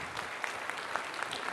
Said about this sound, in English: let's give our amazing new nurses one final round of applause as they boldly step into their next chapter